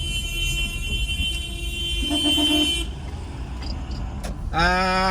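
Outdoor street traffic noise in Philadelphia with overlapping car horn tones: a long steady honk, a shorter lower beep, then another sustained horn sounding near the end.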